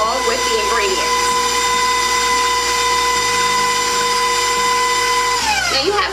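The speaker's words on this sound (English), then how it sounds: "Any strawberries that haven't been crushed, they are now getting crushed again along with the ingredients." A blender crushes strawberries together with other ingredients, running loud and continuous with a steady motor whine and churning, its pitch shifting slightly near the end.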